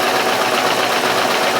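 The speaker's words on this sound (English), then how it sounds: "I'm just going to do the next final stitch for the French seam" A sewing machine runs steadily through the final stitch of a French seam on a garment, a close, continuous mechanical whir with even texture and no pauses.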